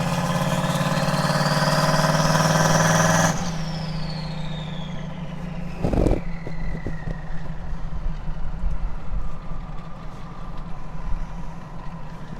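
A car engine climbs from idle to wide open throttle, its pitch rising into a loud roar for about three seconds before the throttle snaps shut and the revs fall away, leaving a lower running drone.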